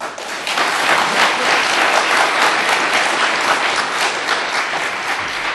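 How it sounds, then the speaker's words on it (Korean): An audience at a peace and unification lecture at a Seoul center applauds to welcome a professor, with dense, sustained clapping that rises quickly and holds steady for several seconds. "큰 박수로 모시겠습니다"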